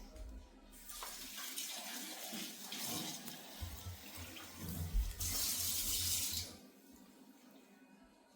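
Tap water runs into a sink in a burst of broadband splashing, easing off near the middle and then surging loudly for a stretch before tapering away, with no talking over it.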